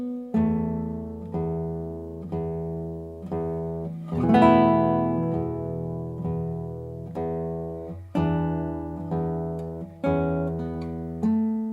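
Fingerstyle acoustic guitar plays a phrase, plucked notes and chords ringing out one after another at a steady, unhurried pace, close and clear, with no voice over it.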